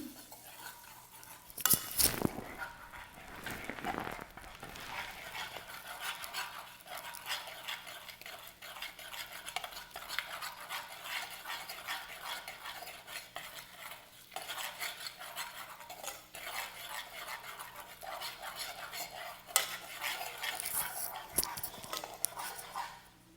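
A utensil stirs and mixes a thickening mixture in a bowl while making butter, a long stretch of close scraping and clinking, briefly louder near the start and end.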